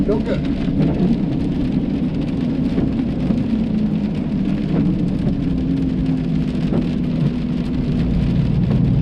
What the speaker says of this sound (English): trying to beat the rain,